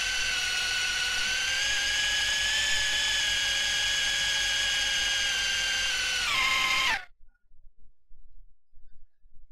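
A small coaxial RC helicopter hovers and drifts slowly, its electric motors giving a steady, loud high-pitched whine that holds for several seconds, then winds down and cuts off, leaving near silence.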